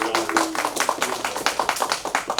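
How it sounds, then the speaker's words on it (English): An event audience claps in a small room, a fairly close, irregular patter of separate hand claps from a modest crowd with no talking. "Let's just put a big round of applause to the IFS team"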